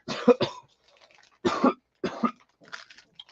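Three or four sharp coughs in quick bursts, close and fairly loud, with short pauses between them and a fainter cough trailing at the end.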